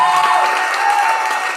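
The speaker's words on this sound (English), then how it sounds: "And keep clapping" Audience applause at an open mic poetry night, a dense sustained clapping from a crowd, loud and steady throughout.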